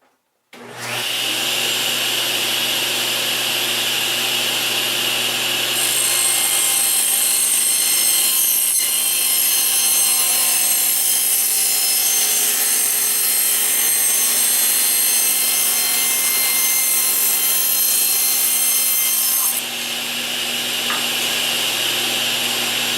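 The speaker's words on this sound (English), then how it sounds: "all I want to do right now is put a fresh cut on this edge here before we take it to the router table" A saw puts a fresh cut on the edge of a glued edge-grain pine board, starting abruptly with a loud, steady high whine that grows harsher as the blade bites through the wood, then eases near the end.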